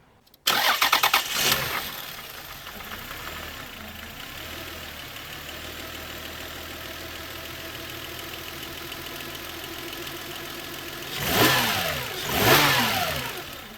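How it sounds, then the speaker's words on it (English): Toyota Avalon with a knocking fault cranks and catches on a cold start, then settles into a steady close idle broken near the end by two quick revs. "As for the Avalon, let's do a cold start."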